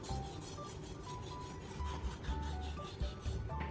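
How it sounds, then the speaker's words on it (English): A knife blade slides back and forth on a sharpening stone, its angle held steady by a pipe, giving a continuous close rasping rub with faint rhythmic strokes and no talk. "Sliding the knife back and forth."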